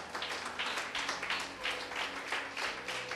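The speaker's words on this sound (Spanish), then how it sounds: "¿Cuántos aplaudan en nombre del Señor?" A church congregation claps during a sermon for the Feast of Trumpets, with faint rhythmic applause going on steadily and no one speaking.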